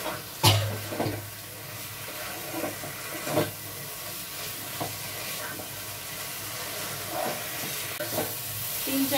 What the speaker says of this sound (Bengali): দু তিন মিনিট কষিয়ে নেওয়ার পর এবার আমি বেগুনটা দিয়ে দিচ্ছি।